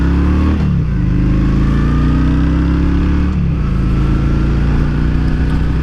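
A Honda Shadow 750cc motorcycle being ridden, its engine droning loud and steady close by, with two brief dips in pitch as it shifts gears before settling back to a smooth cruising hum.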